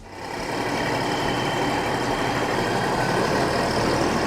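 A Changfa tractor engine runs with a steady, loud diesel drone that rises in the first half second and then holds evenly close by, with no talk.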